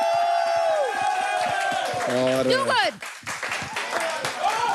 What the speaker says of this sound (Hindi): एक बार अपने मेंटर्स के लिए ताली बजाइए